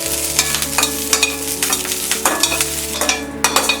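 Curry leaves fry in a pan for molaga podi, with a dense close sizzle and a quick series of scraping stirs and clicks against the pan.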